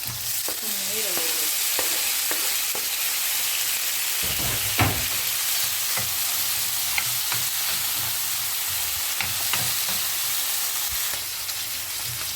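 Bitter gourd sizzles in a pan with onion and tomatoes as it is sautéed, a loud, constant frying hiss broken by occasional scrapes and clacks of a stirring utensil.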